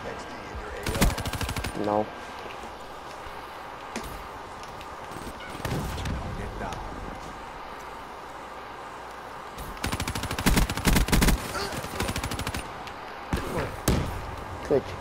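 Bursts of automatic gunfire in Call of Duty Black Ops 3 crackle in sharp, rapid clusters separated by quieter gaps, loud and close, with a player briefly talking between volleys.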